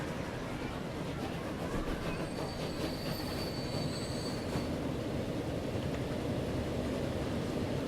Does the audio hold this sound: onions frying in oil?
no